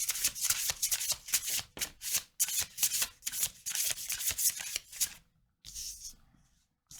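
Tarot cards being shuffled by hand, a run of quick papery riffling and rubbing bursts in steady bunches, close and fairly loud, with a short pause near the end before one more brief shuffle.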